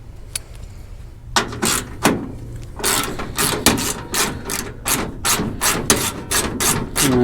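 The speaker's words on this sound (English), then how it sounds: "I'm gonna start taking these ones off first, since I already have my ratchet in my hand" A hand ratchet works bolts loose on a 1967-1972 Chevy C10 core support, with close, steady runs of sharp clicking strokes and a few pauses between them.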